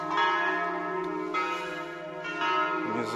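Church bells ring in Salzburg. Their rich, sustained metallic tones hang in the air, and fresh strikes swell the sound about every second. They are fairly close and clear, with no voices.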